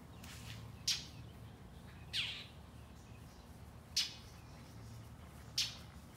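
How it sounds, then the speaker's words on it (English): A bird in a backyard gives four short, sharp squawks spaced about one to two seconds apart. The calls are fairly faint against a quiet outdoor background. "That old bird bothering you"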